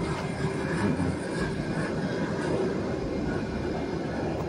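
Super Air Jet airliner taking off or landing, a loud, continuous jet engine roar with broadband rushing noise holding steady throughout, no voices heard.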